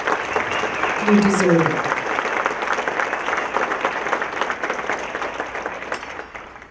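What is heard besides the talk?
audience applause for North Glen businesses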